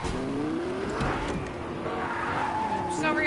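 A car in a video game drives up, its engine and tire noise rising and falling under background game sounds and speech-like chatter for about three seconds.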